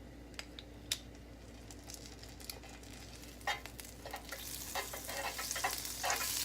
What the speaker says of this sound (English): My skillet, it's nice and hot. I am ready to add my butter.